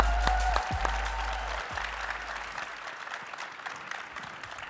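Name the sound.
audience applause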